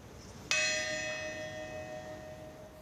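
A single bell from Paris's Notre Dame Cathedral, one of three new bells delivered ahead of its reopening, strikes once and then rings on with a long, steady, slowly fading tone, heard alone.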